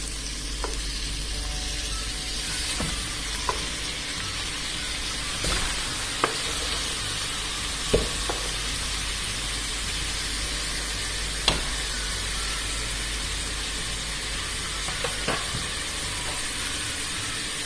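Chicken frying in a pan for biryani: a steady, dense sizzle held close for a long stretch, broken now and then by sharp pops and light clinks of stirring.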